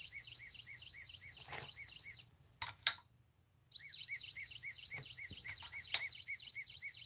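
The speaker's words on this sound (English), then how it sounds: "That's the donate button alarm, I guess." A donate-button alarm on a Lego-themed live stream sounds as a loud, rapidly warbling electronic siren that repeats steadily, cuts out for about a second and a half with a couple of clicks, then resumes.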